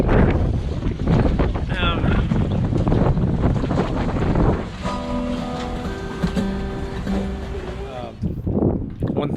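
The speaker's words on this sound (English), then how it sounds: "It's been nice and windy today. A tropical storm is blowing across Florida," Strong wind from a tropical storm buffets the microphone on the Florida coast, loud gusty rumbling and roaring throughout, with surf nearby and a voice and whistling tones partly audible under the gusts.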